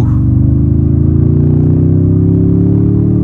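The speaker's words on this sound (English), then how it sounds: "Nice induction. It sounds like there's a cold air intake." A 2024 Toyota Tundra TRD-Pro engine pulls at half throttle, giving a loud, steady induction drone whose pitch climbs smoothly over a few seconds.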